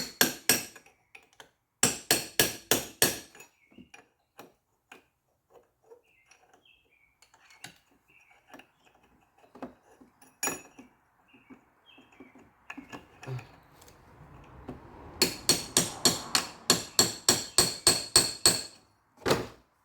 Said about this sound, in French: On va prendre notre petit punch, puis juste on va aller pointer où il y a les deux fameux trous de notre circlip